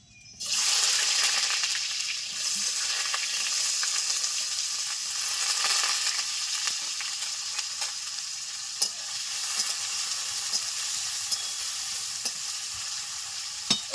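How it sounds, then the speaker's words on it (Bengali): Loud, steady sizzling of potatoes frying in hot mustard oil in a kadai, close up, with occasional stirring clicks throughout. "তেল গরম হয়ে গেছে আলুগুলো ভেজে নেবো"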